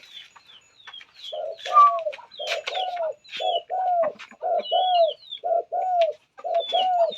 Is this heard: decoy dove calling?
yes